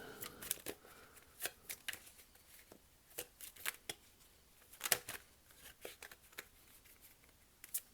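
Tarot cards are shuffled and drawn close to the mic, with quick papery riffles and sharp flicks in irregular bursts against a quiet room.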